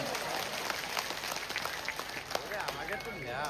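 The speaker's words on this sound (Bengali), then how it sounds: "জোরে জোরে একটা করতালি দাও এদের ধন্যবাদ জানাবার জন্য।" An audience applauding at a Kobi gaan folk performance, a steady dense clapping from a crowd throughout, with voices mixed in.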